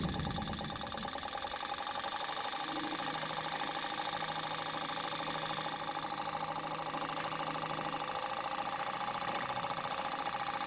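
Spark-ignition engine on an ignition system test rig, running steadily with a fine rapid ticking and a constant hum as its speed rises and falls only slightly, faint and with no talking.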